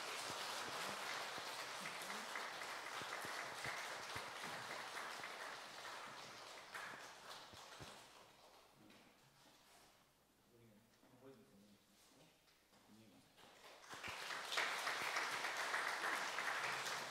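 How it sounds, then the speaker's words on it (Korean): A church congregation claps, a broad wash of applause that dips into a quieter stretch with someone speaking, then swells again near the end. "예, 박수 쳐주시고요."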